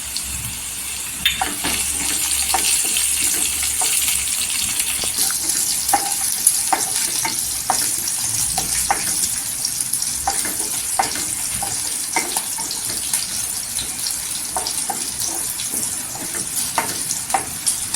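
Green chillies dropped into golden frying garlic for a fenugreek leaf dish: a steady bright sizzle lasting throughout, broken by frequent small clicks and spatula scrapes, with no talking.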